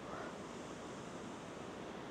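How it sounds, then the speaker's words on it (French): Several waterfalls tumbling into a Norwegian fjord, heard as a steady distant roar of rushing water, constant and even with some wind noise, no voices. "Ah, il y a plein de cascades."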